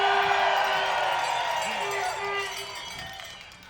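A stand-up comedy audience cheers loudly, with whoops and some clapping in a dense burst of many voices that gradually tapers off.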